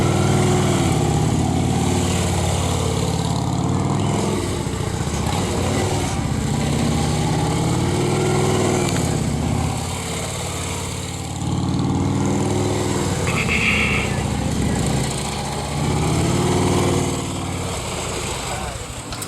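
A police motorcycle engine revs and idles as the bike weaves slowly through a cone course at a block party demonstration, pitch rising and falling in repeated swells, fairly close, with a voice talking over it.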